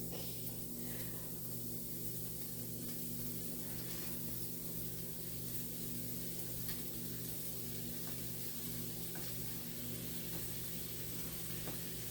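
Food sizzling in a hot pan, a continuous quiet hiss that holds steady throughout, with a low hum underneath.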